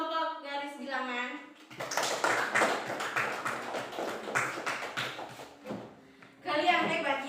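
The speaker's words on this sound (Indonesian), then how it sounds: "Jadi tepuk tangan untuk kelompok garis bilangan." Students in an Indonesian classroom clap for the number-line group, a burst of brisk, fairly close hand claps lasting a few seconds, with a voice speaking before and after.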